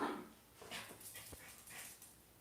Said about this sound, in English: She's gonna bark.